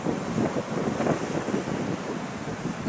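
Wind gusts buffet the microphone in uneven low rumbling bursts, fairly loud and continuous, with no voices.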